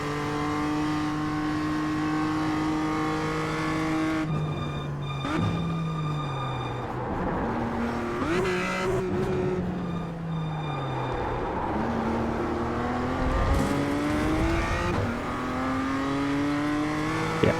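A race car engine in a racing video game holds steady during an out lap. Its loud harmonic drone rises and falls through gear shifts and revs, with brief dips and swells and no voices.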